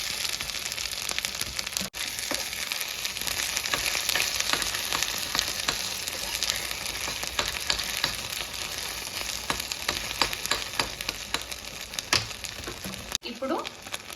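Goat brain frying in a pan for bheja fry, with a continuous close sizzle and repeated scrapes and clinks of a spoon stirring, and a voice occasionally speaking over it.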